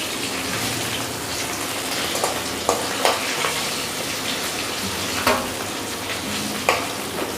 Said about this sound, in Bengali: এবার ওই পিঠটাও ভালো করে ভেজে নেব।